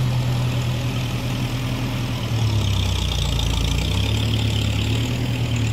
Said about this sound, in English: Just let this tractor go past.